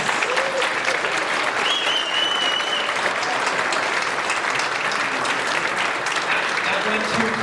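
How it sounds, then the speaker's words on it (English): Sustained audience applause fills a convention panel with the cast of Gotham, dense steady clapping from a large crowd throughout, with a few faint voices and cheers mixed in. "can we give a round of applause to all of our guests?"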